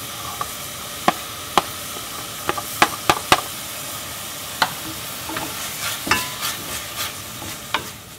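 Beef, garlic and onion stir-fry in a pot for beef and vegetable porridge, with a close, continuous sizzle broken by a series of sharp spoon knocks and scrapes against the pot.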